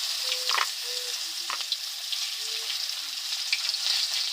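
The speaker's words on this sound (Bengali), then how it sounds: "সেই কুমড়ো বড়িগুলো আমি ভেজে নিব।" Sun-dried lentil and pumpkin dumplings (kumro bori) frying gently in a small amount of oil, a steady soft sizzle with faint crackles and occasional light stirring clinks, fairly quiet and close.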